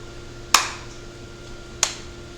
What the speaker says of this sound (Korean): 박수 한 번만. 착.